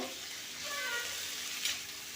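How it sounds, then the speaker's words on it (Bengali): Cut beans, yardlong beans and potatoes frying with onions in a pan, a steady close sizzle with a brief stirring scrape near the end. "এখন আমি ধুয়ে রাখা কেটে রাখা বিনস বরবটি আলু আমি ছেড়ে দিয়েছি এগুলো ভালো করে পেঁয়াজের সাথে আমি ভেজে নেব"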